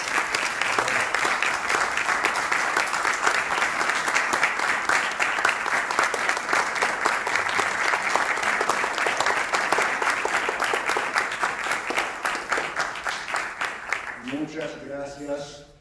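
An audience gives sustained, dense applause after a lecture on the poetry of Jacques Viau Renaud. The clapping holds steady for about fourteen seconds, then fades as a voice starts speaking.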